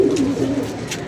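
A pigeon coos close by, a short low warbling coo with a faint rustle behind it and no voices.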